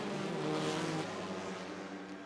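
The McLaren 570S race car's engine drones steadily during a lap of the Grand Prix de Trois-Rivières street circuit, a continuous mid-distance hum with no talk.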